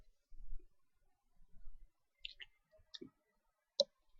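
Mouse clicks during setup of an Unreal Engine 4 Blueprint door: several short, sharp clicks, close and fairly quiet, scattered over a few seconds with soft low thumps between and no speech.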